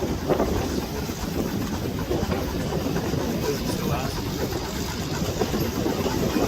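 A big Rumely 120 steam traction engine runs during the Western Minnesota Steam Threshers parade in Rollag, Minnesota, giving a continuous rumbling chug through wind noise while someone talks over it.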